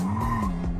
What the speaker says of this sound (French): Ah ouais, ça patine gros, hein.